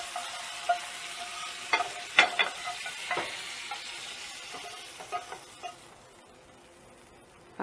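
Garlic sizzles in a pan with a soft steady frying hiss, broken by repeated scraping stirs of a utensil that fade out toward the end.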